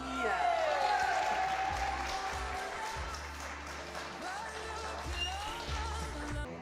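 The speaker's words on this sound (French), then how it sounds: "Ah oui, on applaudit, merci Stéphanie." Wedding guests applaud after a toast to the newlyweds, a full, steady round of clapping mixed with crowd chatter and cheering voices throughout.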